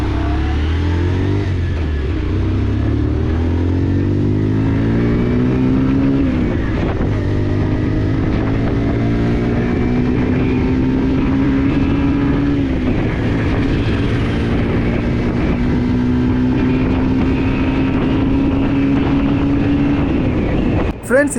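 A Bajaj Pulsar 125 motorcycle is ridden, its engine droning steadily and rising in pitch as it accelerates through gears, loud and close throughout with constant wind and road rumble.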